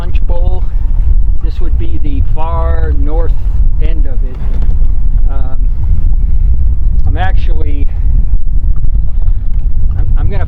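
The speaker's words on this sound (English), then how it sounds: "The wind's blowing hard" Strong wind buffeting a fishing boat on Banks Lake in Washington, a loud constant low roar and rumble against the microphone, with someone talking over it throughout.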